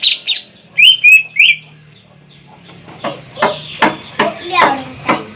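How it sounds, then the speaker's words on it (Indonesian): A green leafbird (cucak ijo) sings close and loud in sharp, whistled phrases, with bursts of chirping and clucking-like notes, while a person talks nearby. "Ya ini burung mah, namanya burung pisang."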